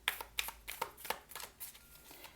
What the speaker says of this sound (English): skip all of the shuffling that's happening right now